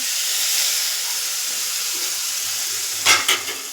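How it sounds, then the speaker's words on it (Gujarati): Spices and dried curry leaves temper in hot oil for a besan curry, giving a loud, steady sizzle and hiss that ends with a few quick clinks of stirring. "આપણે ઉપરથી આમાં ફરીથી એક વઘાર કરી લેશું"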